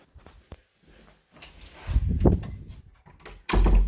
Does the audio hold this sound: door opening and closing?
yes